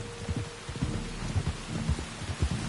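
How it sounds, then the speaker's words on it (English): Rain and thunder in the Spider-Man video game: a steady hiss of rainfall with repeated low rumbling thumps, no talking. "You were right about the damn rain."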